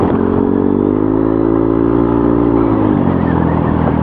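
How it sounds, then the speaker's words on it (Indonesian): A motorcycle fitted with a TZM racing exhaust and DB killer drones loudly and steadily at high revs on the road, its pitch dipping slightly toward the end, with no voices. "suara knalpotnya terdengar sedikit lebih berisik"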